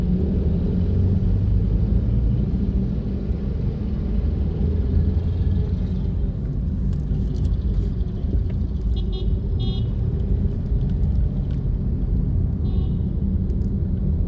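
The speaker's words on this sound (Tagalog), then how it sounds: "huot kay ron traffic dito" Dense downtown road traffic congested by a religious procession, a constant low engine rumble from nearby vehicles with a few short horn toots in the second half, no talking.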